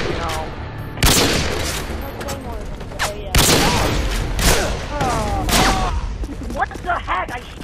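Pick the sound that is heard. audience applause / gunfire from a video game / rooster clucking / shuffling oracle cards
gunfire from a video game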